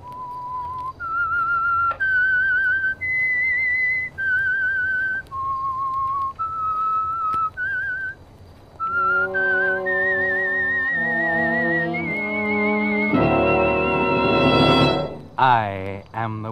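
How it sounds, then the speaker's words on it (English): A human whistler carries the signal tune of The Whistler radio drama, a series of clear sustained notes that rises and falls, later joined by orchestral music swelling loudly near the end. "That whistle is your signal for the Signal Oil Program"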